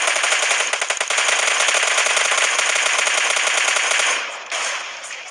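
Rapid automatic gunfire from PUBG Lite, a continuous dense burst of shots lasting several seconds, loud and close, tapering off briefly near the end before resuming.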